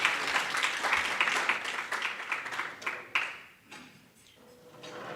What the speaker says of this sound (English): Can we give Dr. Mzangwa a round of applause,